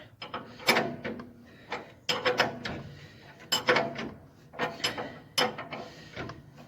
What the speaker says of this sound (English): I'll just slowly wrench that up so we can't wrench it no more.